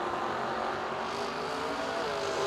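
A Chevrolet Vega and a Ford Mustang at a drag strip, a continuous broad engine roar from a distance filling the whole short stretch with no talk.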